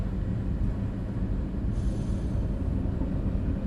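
A DB BR 612 diesel tilting train in Train Sim World 2 rumbles steadily along the track, with a loud continuous low engine drone and wheel noise and a faint high squeal partway through.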